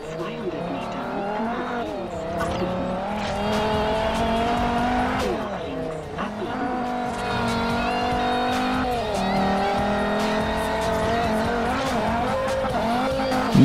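A car in the Forza Horizon video game revs and races, its engine whining up and down through gear changes while tires squeal in long skids, loud and steady throughout, with someone talking over it.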